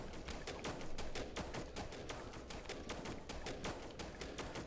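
Rapid gunfire from the zombie strategy game They Are Billions: dense, rhythmic bursts of shots crackling continuously at low volume with no speech over it.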